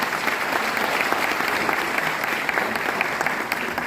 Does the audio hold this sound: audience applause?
yes